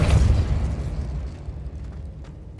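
Depulso spell cast in Hogwarts Legacy bursts with a heavy, booming blast at the start, then rumbles and fades away over the next couple of seconds with no voices present.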